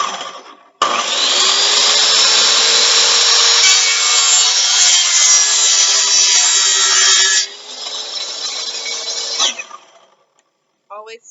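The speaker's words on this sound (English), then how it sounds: "Always stop the saw" A power saw cuts and shaves down the wooden arms of a stove cover, a loud steady whine running for several seconds, then easing off and trailing away before a brief final rattle.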